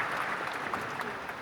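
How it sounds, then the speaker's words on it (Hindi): An audience applauds to welcome a poet at an Urdu poetry gathering, a short burst of dense clapping that is moderately loud and steady throughout. "अपनी जोरदार तालियों में इस्तकबाल कीजिए प्रियमवदा इल्हान का"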